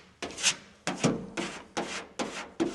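Body filler pressed firmly into pinholes on a 1958 Plymouth body panel, six close scraping strokes in a steady rhythm, each a short gritty rasp, with no voices.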